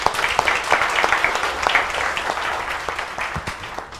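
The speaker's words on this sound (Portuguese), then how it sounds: "Uma salva de palmas." Lively audience applause at a community group meeting, close and fairly loud, with distinct individual claps standing out of a dense patter that tapers slightly toward the end.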